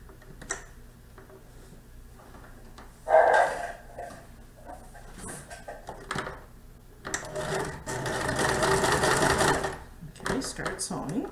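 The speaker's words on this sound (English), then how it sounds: "and just start sewing." A sewing machine stitches twill tape ties onto a contoured fabric face mask, its steady mechanical run building from about eight seconds after quieter handling noises and a brief thump, close and fairly loud.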